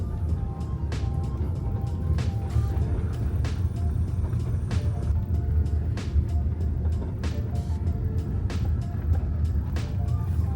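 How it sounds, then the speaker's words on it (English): Porsche Cayenne driving off-road on dirt, a steady low engine and tyre rumble from inside the cabin with frequent sharp knocks and rattles from the rough ground. "I feel really great driving in the dirt right now"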